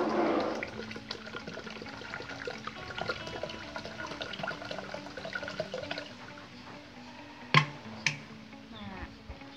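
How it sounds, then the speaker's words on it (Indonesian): One liter of water poured into a black soldier fly maggot feed mix, a steady close splashing and trickling pour running throughout, with a couple of sharper knocks near the end and no talk. "Nah, kalau udah, tambahkan 1 liter air."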